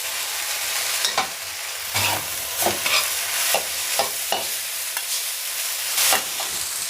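Blanched glass noodles are stir-fried in a pan with egg, a continuous close sizzle broken by regular scraping and tossing strokes of a spatula roughly every half second, no voices.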